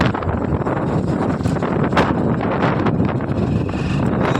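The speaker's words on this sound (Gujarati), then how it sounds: "પવનનો અવાજ બહુ આવ્યો કારણ કે અત્યારે પવન બહુ છે" Strong wind buffets the microphone with a loud, continuous rumbling roar and gusty bursts, and no other sounds are heard.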